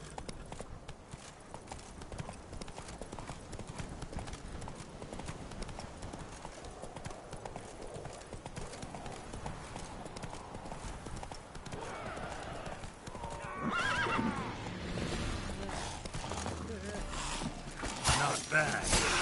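Hooves of the horse Roach clip-clop steadily as it gallops in the video game Witcher 3, with a neigh and stronger hoofbeats toward the end, while faint voices sound in the background.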